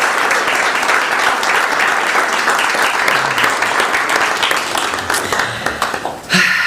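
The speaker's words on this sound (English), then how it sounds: "Just one more round of applause." Audience applause at a musical storytelling performance: dense, steady clapping from a crowd that holds for about six seconds, then cuts off abruptly near the end.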